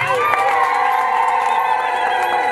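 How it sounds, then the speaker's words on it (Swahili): At a Chama cha Mapinduzi political rally in Momba, a crowd cheers loudly while women hold high, wavering trilled ululations over a steady, close wash of crowd noise. "Pigeni makofi na vigelegele."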